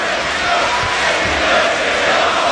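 A wrestling arena packed with over 18,000 fans roars in a dense, steady wall of chanting and cheering, loud and continuous throughout with no single voice standing out.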